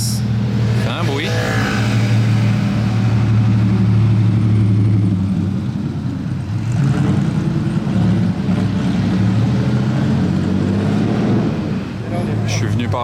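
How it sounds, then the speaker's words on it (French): A Porsche 911 GT engine drives past on a Monaco street, a loud, steady mid-pitched roar that swells and holds for several seconds, heard close and under talk. "Encore une Porsche sympa, je l'entends d'ici arriver."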